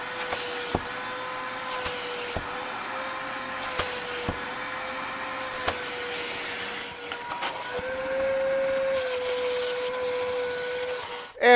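An EcoMax wet/dry shop vacuum runs steadily nearby with a constant whining hum and airy hiss, broken by a series of sharp clicks and knocks as debris is sucked up, and a brief surge in pitch near the end.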